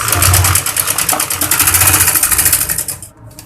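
A sewing machine stitches the lining of a baby girl's kurti with dori piping, a fast rhythmic mechanical whir running steadily and close up before stopping abruptly near the end.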